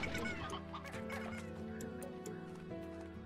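Chickens in the video game Slime Rancher cluck repeatedly in a busy, steady stream over soft tonal game music, with no talking.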